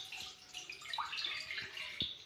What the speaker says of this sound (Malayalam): എത്ര എടുത്ത് അത്ര വെള്ളം ഒഴിച്ചു കൊടുക്കാം